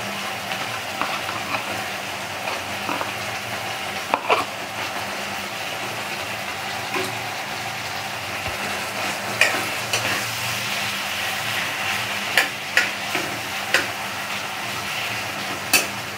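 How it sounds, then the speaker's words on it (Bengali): Onions and tomato pieces fry in a pan with a constant sizzling hiss, while scattered sharp clicks and scrapes from a stirring utensil sound close by. "এইবার পেঁয়াজগুলো হালকা হালকা ভাজা হচ্ছে, এরই মধ্যে আমি অ্যাড করে দিচ্ছি টমেটো পিসগুলো।"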